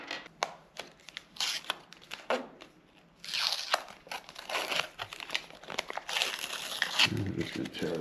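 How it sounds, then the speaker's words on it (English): A small plastic accessory pouch for a GoPro wireless mic kit's 3.5 mm male-to-male TRS cable is torn open by hand. Crinkling and ripping bursts come close and loud, with a quieter stretch between them. "I'm just going to tear it open here."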